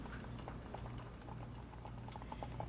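Grits boiling in a pan, quietly popping and blipping in an irregular thick bubbling patter over a soft steady hiss.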